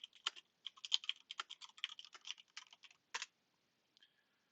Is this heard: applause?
no